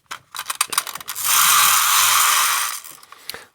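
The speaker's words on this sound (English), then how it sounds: "the gears still work sometimes" A 1950 Ford windup toy car's gears whir in a loud mechanical buzz for about a second and a half, set between rapid clicking ratchet ticks before and after, close up and alone.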